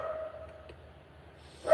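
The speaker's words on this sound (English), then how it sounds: "Hear that dog?" A dog barks in a neighbouring backyard, faint and distant. There are a few soft, brief yaps, and a sharper one right at the end.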